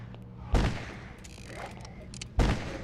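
Two sharp, loud gunshots about two seconds apart in a GameCube video game, each a heavy booming blast with quieter game sounds between them.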